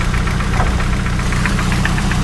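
The freshly rebuilt engine of a 1981 Toyota dual-case crawler truck idles with a loud, close, steady rhythmic knock and chug, heard alone without talk.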